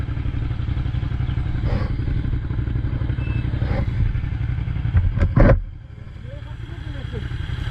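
A motorcycle rides past at an intersection, its engine droning loudly throughout with a sharp clattering burst near the end before the sound drops away, while another motorcyclist overtakes.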